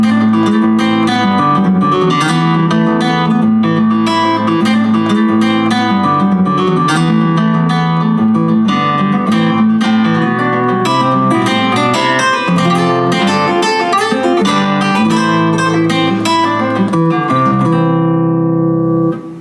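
A Yamaha CSP-275 digital piano guitar voice plays a steady run of plucked notes and chords, with sliding pitch bends like fingers moving along a guitar neck, continuous until a brief fade.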